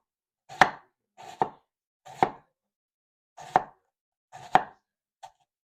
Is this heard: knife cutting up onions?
yes